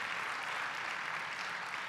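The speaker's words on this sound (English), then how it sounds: "That is worth a round of applause." Brief, faint audience applause at a political speaking event, a steady wash of many hands clapping with no voice over it.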